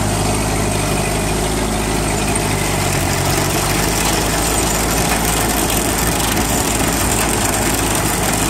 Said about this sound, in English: I'm gonna put it in second and try and get this spread out a little bit more